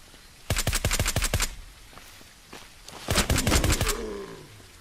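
Two rapid bursts of automatic gunfire from a gun in the zombie-survival shooter SurrounDead, each a fast string of sharp cracks, loud and close, with a short quieter gap between them and no talk.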